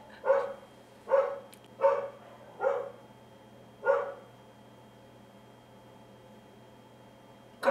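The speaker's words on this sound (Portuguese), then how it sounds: "Cachorro latindo." A dog barks five times in a loose, uneven rhythm, each bark sharp and fairly close, with quiet gaps between and one more bark cut off at the very end.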